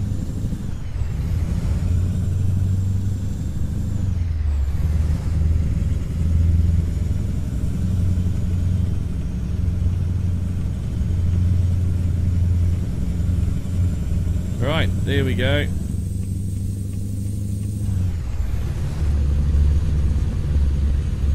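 A MACK Superliner truck engine in Euro Truck Simulator 2 rumbles steadily at a cruising drone, with a brief higher whine partway through, while someone talks over it.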